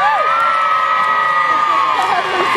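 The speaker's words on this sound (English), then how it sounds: "then why not cheer for him now?" A crowd at a knights' jousting show at the Lincolnshire Show cheers and shouts for a local Lincoln knight, loud and continuous with high children's yells and whoops over a steady roar.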